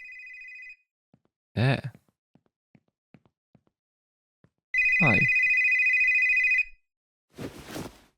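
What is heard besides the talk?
telephone ringing in The Store Is Closed video game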